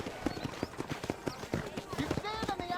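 Horse hooves in Red Dead Redemption give a brisk, regular clip-clop, close and clear, while voices talk over them.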